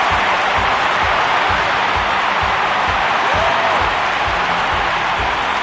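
Stadium crowd at the London 2012 Olympic men's single sculls rowing final applauds the German gold medallist, a loud, dense, steady wash of clapping and cheering with no break.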